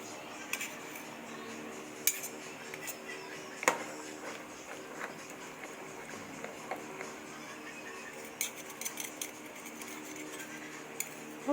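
A metal ladle clinks against a cooking pot while Bicol-style beef caldereta simmers, giving scattered light taps and scrapes, some sharper and more distinct, over a low steady background hiss.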